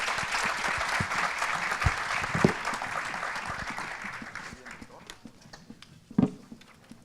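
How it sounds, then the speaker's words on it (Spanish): Audience applause for the panelists at a panel discussion on a Pacific regasification plant, a dense crackle of many hands that gradually fades out over several seconds, with a few louder thumps near the end. "Gracias a los panelistas. Un aplauso"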